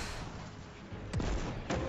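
In a Destiny-style shooter, a Dragon's Breath rocket explosion and Scorch fire land in a series of sharp booms, two distinct blasts rising over a dense roar of continuous gunfire and game combat.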